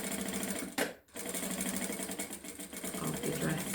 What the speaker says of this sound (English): sew the sleeve, or sorry, the shoulder seam while we're here